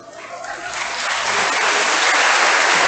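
A large group of grade 9 students applauds during a school flag retreat ceremony, the clapping starting moderately and swelling into loud, dense, sustained applause with no talk.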